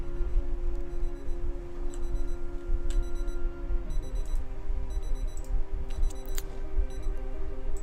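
Zombie-worn alarm ringing in Project Zomboid, a repeating electronic beeping pattern of short high pulses over a steady low game ambience, fairly constant throughout.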